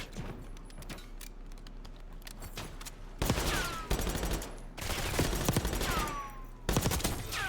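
Pistol gunfire in a video game, with rapid bursts of sharp, punchy shots coming in clusters and separated by brief lulls.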